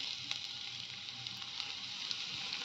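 Crushed garlic frying in hot oil with cumin seeds, a steady bright sizzle with small crackling pops throughout, close and unbroken.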